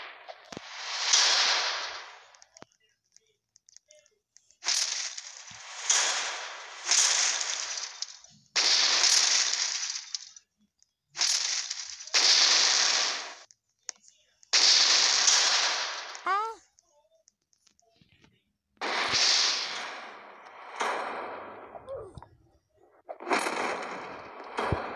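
Bomb blasts in the Roblox Natural Disaster survival game, a series of loud, sharp bursts that come in quick clusters separated by brief silences, with no talking.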